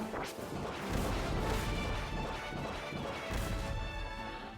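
Explosions and crashing effects from Kirby and the Forgotten Land on Switch pile up in dense, continuous bursts at moderate level, with a couple of sharper hits standing out.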